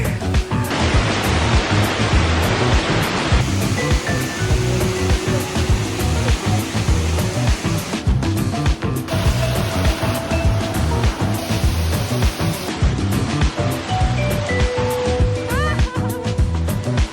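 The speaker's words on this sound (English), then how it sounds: "We climbed through the waterfall." A waterfall in Indonesia rushes loudly and steadily the whole time, a dense broadband roar from close by, with brief faint voices and splashes mixed in near the end.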